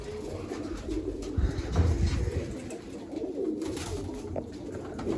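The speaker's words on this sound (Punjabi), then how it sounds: "ਤਿੰਨ ਕਬੂਤਰ ਲੜੀ ਜਾਂਦੇ ਆ" Pigeons cooing and squabbling nearby, with low throaty coos and fluttery scuffling sounds in a steady mix, with no talking.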